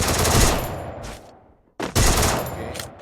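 Thompson submachine gun firing in Free Fire: two loud, close bursts of rapid automatic fire separated by a brief near-silent gap, with no talk.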